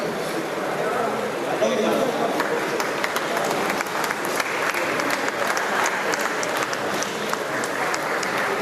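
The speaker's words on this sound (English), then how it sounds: "please give them a big round of applause" Sustained applause from a large audience at a Grant Medical College 1975 batch golden jubilee reunion, steady and dense throughout with crowd murmur mixed in.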